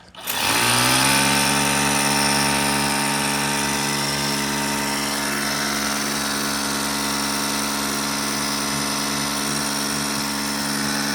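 A Ryobi 18V cordless portable pressure washer spins up and then runs at a steady, loud whine as it sprays pollen off surfaces outdoors. The motor and spray drone on unbroken for several seconds with no talking.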